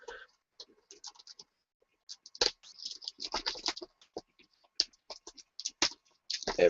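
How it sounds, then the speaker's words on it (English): Packing tape being pulled and torn off a comic book parcel, with irregular bursts of sharp ripping and crackling separated by short quiet gaps, close and fairly loud. "If I can get the tape off and not cut my fingers off."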